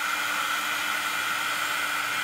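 Heat embossing tool blowing hot air over stamped cardstock, a steady loud whirring hiss with a constant motor whine, unbroken and close.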